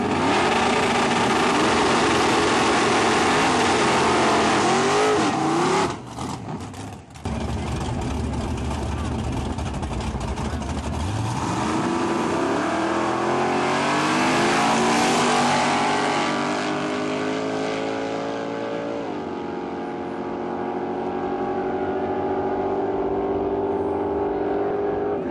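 Eight-cylinder Camaro drag race cars in an AAA category final, with loud engines roaring, revving and accelerating close by, the pitch rising as they launch, and an announcer talking over them.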